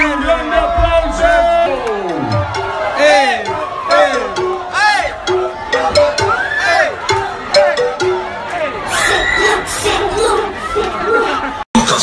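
Excited concert crowd cheering and whooping loudly for the band on stage, dense shouting and high voices rising and falling, with an amplified voice and music cutting through the noise.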